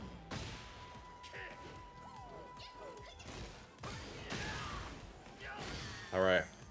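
Fighting-game combat in Tekken 8, punchy hits, smashes and whooshes scattered through the stretch over game music, with a sharper crash near the end.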